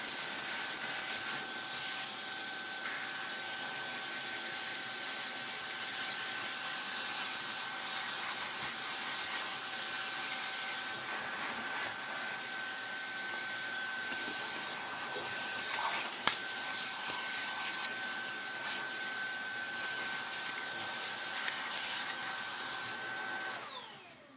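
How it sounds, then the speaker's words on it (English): A vacuum cleaner runs steadily with a high-pitched motor whine and airy suction hiss, close and continuous for the whole stretch, with occasional small rattles. "I shall get another vacuum cleaner and just clean it off very quickly"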